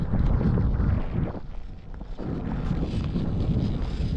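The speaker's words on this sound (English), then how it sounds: "Wind is blowing." Wind buffets the microphone outdoors in low, rumbling gusts that rise and fall unevenly, fairly loud and close, dipping briefly in the middle.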